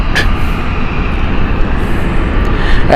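A British Airways Euroflyer airliner at Gatwick Airport roars steadily and loudly close by, a broad sustained engine rumble with a faint whine on top, holding constant throughout with no voices.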